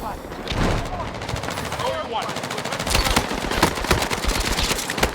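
Rapid automatic gunfire rattles in Battlefield 6, with loud, dense bursts that intensify in the second half amid other battle noise and a voice talking.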